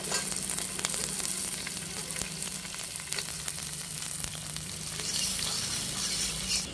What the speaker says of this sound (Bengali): এবারে লঙ্কা কুচি আর পেঁয়াজ কুচিকে নিয়ে নিব।